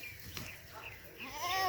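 Goats on a farm in St. Elizabeth, Jamaica, give a short bleat or two against faint outdoor background noise, fairly close, with no talk.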